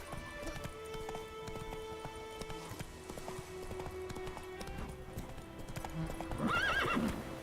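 Horse hooves clip-clopping in a steady galloping rhythm in The Witcher 3, with a loud neigh near the end, game audio mixed with ambient sound and no talking over it.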